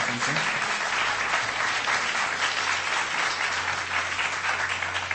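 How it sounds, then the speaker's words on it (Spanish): Sustained spontaneous applause from an audience at a UFO congress in Maipú, dense and steady throughout, with a faint voice briefly audible near the start. "Un aplauso espontáneo"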